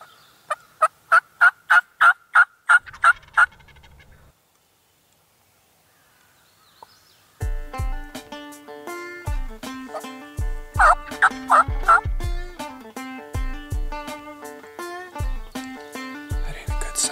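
A wild turkey gobbles in a rapid burst of about ten sharp calls from a distance, followed after a pause by loud, tonal music with steady beats.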